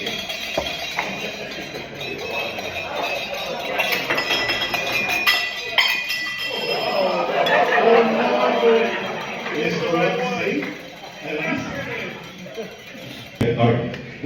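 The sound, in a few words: clinking while making a cocktail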